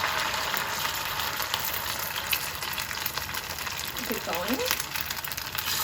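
Fish cake paste spoonfuls sizzle steadily in hot oil for Vietnamese fish cake noodle soup, a continuous bright crackle with brief short spoken words over it.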